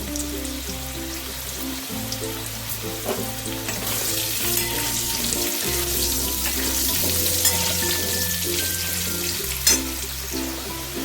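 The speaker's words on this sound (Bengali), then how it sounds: "দেখো আলু ভাজা হয়ে গেছে এবার আলুগুলোকে নামিয়ে নিচ্ছি" Potatoes fry in oil seasoned with salt and turmeric, giving a steady, close sizzle that runs the whole time beneath tonal background music.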